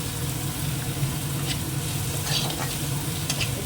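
Onions fry with salt and spices in a pan, giving a loud, continuous close sizzle with occasional soft stirring scrapes.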